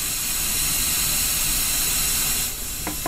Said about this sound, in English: I'm going to insert a test oscillator.